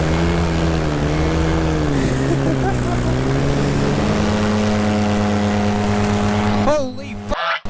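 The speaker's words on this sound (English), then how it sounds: "Plane!" A low-flying paramotor or small plane passes close overhead as a loud, continuous droning engine with steady harmonic tones that rise and fall, then cut off abruptly near the end.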